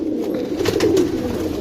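Pigeons cooing in a rooftop loft, a close, low throaty coo rising and falling over a soft background murmur.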